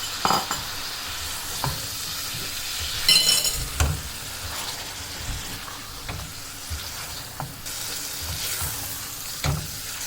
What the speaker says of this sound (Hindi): इसको इस मसाले के साथ अच्छे से भूनूंगी।